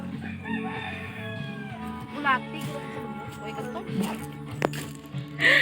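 A rooster crows nearby while hens cluck and other fowl call around it, with people talking over the farmyard sounds.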